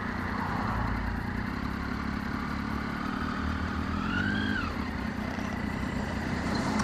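A Daytona 675 motorbike riding on Sydney roads, a steady close engine drone heavy with wind rush throughout, with a rising and falling tone as revs shift near the end.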